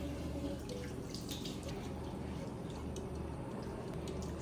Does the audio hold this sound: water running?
yes